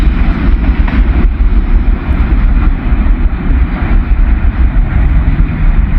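A train rumbles past close to the trackside with a steady, loud low roar and no talk over it.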